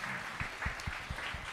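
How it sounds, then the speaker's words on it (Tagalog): Applause from an online meeting audience, a steady patter of clapping with a few sharper claps standing out, fairly quiet and heard on its own without talk. "palakpakan natin sila"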